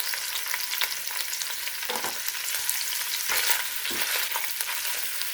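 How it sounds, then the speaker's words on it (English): Cajun sausage sears in a heated Dutch oven over medium heat, a loud, dense sizzle with occasional scrapes and stirring shuffles, close up and without talk. "my Dutch oven's already heated up, so I'm just gonna throw in my sausage"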